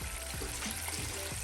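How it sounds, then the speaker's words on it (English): Fish fillets frying in hot grease at around 350 degrees give a steady, loud, close sizzle and crackle with faint bubbling pops, uninterrupted and without speech. "Now while the fish is frying"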